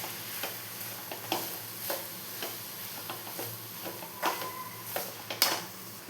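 Beetroot and egg being stirred in a frying pan for Tamil-style poriyal: a spatula scrapes and taps the pan at an irregular, unhurried pace over a faint sizzle and a steady background hum.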